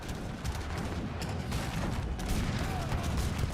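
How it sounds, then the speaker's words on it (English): Heavy cannons fire in a Lakota Hill match of a strategy video game, a dense continuous barrage of booms and gunfire crackle that stays loud and unbroken throughout. "he's just sending heavy cannons now"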